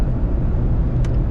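A 2022 Jeep Wrangler 4xE Rubicon plug-in hybrid on the road, heard from inside as a steady, loud low rumble of driving and road noise with no speech.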